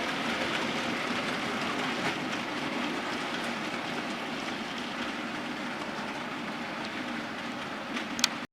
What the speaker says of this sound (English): Last train of the session, little extra thrown in.